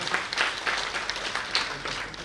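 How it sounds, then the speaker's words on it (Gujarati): A crowd at a Shiva katha religious gathering claps steadily in a dense, continuous burst of applause, with no talk over it. "એકવાર હાથ ઉપર કરી જોરદાર તાળી."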